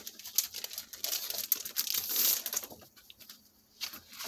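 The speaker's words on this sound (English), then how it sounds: "it's not cardstock, but it's a very heavyweight paper" Sheets of heavyweight printed craft paper are handled up close, crinkling and crackling in dense bursts that peak, then fade to softer rustles near the end.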